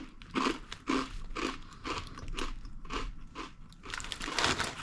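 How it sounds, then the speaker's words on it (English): Crisp crunches of a caviar snack being bitten and chewed repeat in a steady rhythm, close and loud, with no talking. "I couldn't hear anything other than the crunching."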